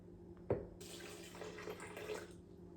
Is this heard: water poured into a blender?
yes